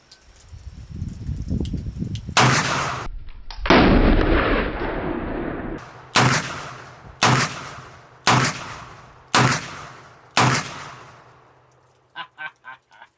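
Smith & Wesson 686 Plus Mountain Gun revolver firing .357 Magnum reloads outdoors, six loud sharp gunshots spaced a second or two apart, each with a short decaying echo, after earlier rumbling noise.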